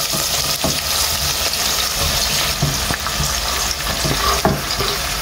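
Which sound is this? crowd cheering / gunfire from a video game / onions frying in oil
onions frying in oil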